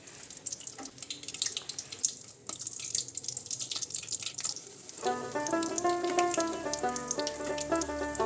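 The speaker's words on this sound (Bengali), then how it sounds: "এখন মিডিয়াম আঁচে তেলে এগুলো ভেজে নিব।" Samosas made with atta and potato fry in oil over medium heat, a close bubbling sizzle with watery crackle that runs throughout, while a musical tone enters partway and plays beneath it.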